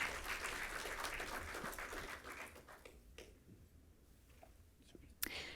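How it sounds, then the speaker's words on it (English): Faint audience applause at BSidesSF 2023, a security conference talk, a soft wash of clapping over the first seconds that tapers into scattered claps and quiet room murmur. "I want everyone to give a round of applause for Caitlin and Jeffrey."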